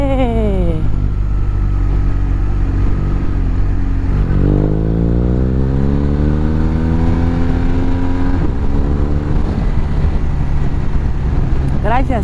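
A BMW R 1250 R motorcycle on new tires, its boxer engine droning steadily and loudly while riding, with pitch climbing through gears in repeated rising sweeps, wind rush constant throughout.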